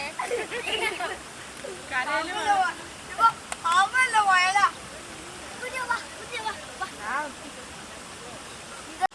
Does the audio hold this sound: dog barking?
no